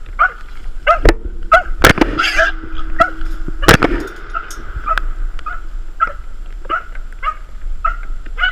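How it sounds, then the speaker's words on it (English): A female hog dog barks repeatedly in short, sharp bursts, close by, with yips and whimpers and a few loud impacts mixed in, outdoors during a hog hunt. "She's a hog dog."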